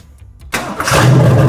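A car engine cranks briefly after a quiet moment, then catches and settles into a loud, steady idle close to the microphone.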